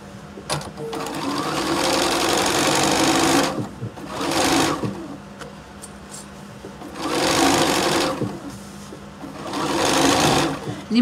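A sewing machine stitching along the edge of a fabric Christmas tree pouch runs in four loud whirring bursts, broken by short pauses where the work is turned.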